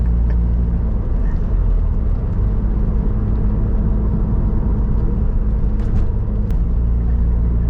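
An automatic twin-turbo Mazda FD RX7 on the road, heard as a steady, loud low rumble of engine and tyres from inside the car, with faint ticks near the end and no talking.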